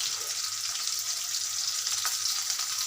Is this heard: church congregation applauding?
no